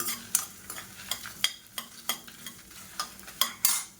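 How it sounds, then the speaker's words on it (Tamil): Dried red chillies and coriander seeds roast in hot oil in a pan, with a steady close sizzle broken by repeated sharp scraping stir strokes at an uneven pace. "ஒரு பத்து வரமிளகா சேர்த்துக்கலாம் இதையும் சேர்த்து நல்லா வறுத்துக்கலாம்"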